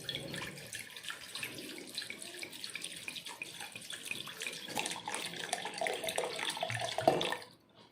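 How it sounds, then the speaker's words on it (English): Cold water from the fridge pours steadily into a mixie jar, a continuous splashing rush that swells near the end before stopping abruptly, with no talk. "So add 1 cup of cold water"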